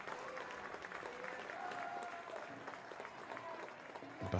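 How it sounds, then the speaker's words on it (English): Stadium crowd at a women's football match applauds steadily as an injured player leaves the pitch, a sustained wash of clapping with a faint voice woven through and a louder swell at the very end. "It's a deserved round of applause as she comes off."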